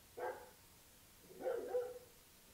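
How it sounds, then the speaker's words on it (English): A dog barks twice, a short yip followed by a longer, drawn-out bark after a pause, fairly faint and with no other sounds. "Jerry was barking."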